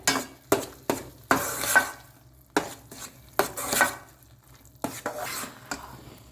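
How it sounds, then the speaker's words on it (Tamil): Bread halwa with ghee is stirred in a pan, giving a series of separate scraping, clinking strokes of a spoon against the pan with short quiet gaps between them, close by and with no talking. "நெய் சேர்த்துட்டு நல்லா கிளறி கொடுங்க"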